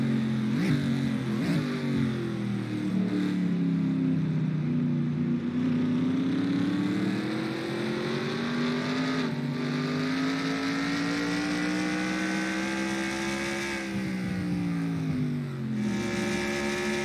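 Race cars lapping a track, their engines forming a loud, continuous roar whose pitch rises and falls as the cars sweep past. No voices are heard.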